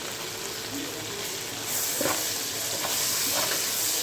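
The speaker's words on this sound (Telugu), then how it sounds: "ఇక్కడ టమాటాలు వేసుకొని ఇందులోనే కొంచెం ఫ్రైడ్ ఆనియన్స్ వేసుకుందామండి" Tomatoes and fried onions tipped into frying chicken biryani masala, a hissing sizzle that grows louder partway through, with scattered stirring clicks and no talk.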